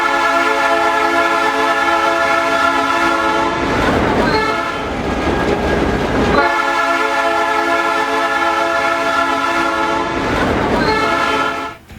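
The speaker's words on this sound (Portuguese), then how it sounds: "está vindo um trem já, está vindo buzinando" A train rolls past at close range in Joinville, its horn blaring loudly in long sustained blasts over the rumble and clatter of the wagons, with a brief gap between horn calls before fading at the end.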